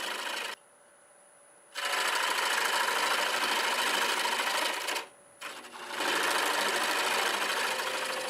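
A wood lathe turns a mimosa root vase, giving a loud, coarse rushing hiss in two long bursts broken by brief quiet gaps, with a faint steady motor whine underneath.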